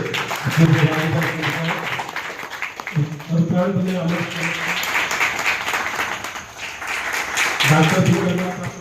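Audience applause for guests at a community gathering, a continuous bed of clapping with voices speaking over it in bursts.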